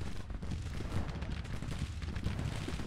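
Artillery and gunfire rumble through a Civil War video game battle at Martinsburg, a dense run of low booms and crackling shots layered over one another at a steady loud level.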